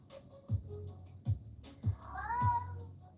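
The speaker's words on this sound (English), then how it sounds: "He's going to be meowing." A bored pet cat meows four times in a slow, regular series, each a short low call, the last rising into a longer drawn-out yowl, close to the microphone in a quiet room.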